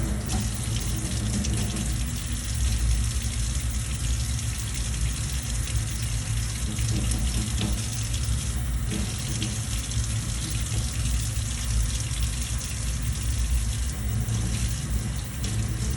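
Water runs in a shower as a constant, even spray and splash that holds steady from start to finish, with no voices.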